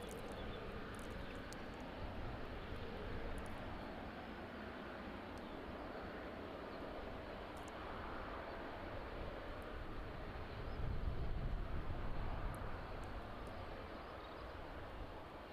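A UPS cargo plane arriving at East Midlands airport from Philadelphia gives a steady, distant jet roar. It holds fairly level throughout and swells slightly near the end, with no talking.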